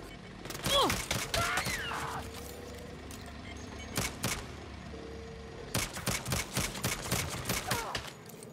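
Bursts of rapid gunfire in Saints Row (2022) crackle in short volleys with gaps between, sharp and loud, mixed with game effects and no talking.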